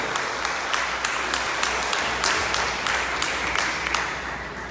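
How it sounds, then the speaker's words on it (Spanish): A church congregation applauds during a sermon, producing dense, sustained clapping from many hands throughout, fairly loud and close, with no speech over it. "Denle un aplauso a Jesús"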